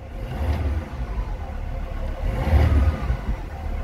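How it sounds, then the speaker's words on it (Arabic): Used car engine revved with the accelerator pedal during a pre-purchase check, two loud close revs rising and falling about two seconds apart over a continuous idle. "كدير هكذا كتغفل الموتور"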